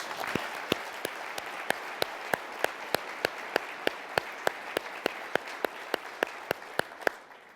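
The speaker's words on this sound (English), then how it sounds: "a big round of applause" Applause at a transit event: a wash of crowd clapping with sharp, regular claps standing out close by at a steady rhythm, fading out at the end.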